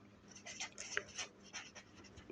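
A pen scratches across paper in short, quick strokes, close and quiet.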